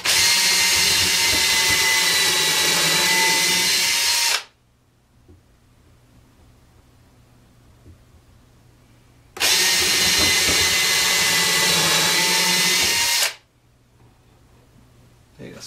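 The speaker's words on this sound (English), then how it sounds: "First stage. Drill the hole. This is called a relief hole." Power drill boring a relief hole in wood while building a handstand trainer, running loud and steady for about four seconds, pausing, then drilling again for another four-second burst.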